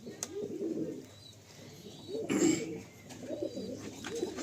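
Chotiyal pigeons, a male and a female, give repeated low rolling coos in several bursts with short pauses, close by with faint background noise.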